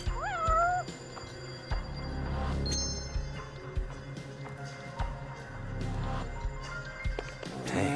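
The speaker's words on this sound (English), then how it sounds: "The loudest cat in the world" A cat in the video game Judgment meows loudly and repeatedly in rising, drawn-out cries, set against game background sounds and footsteps.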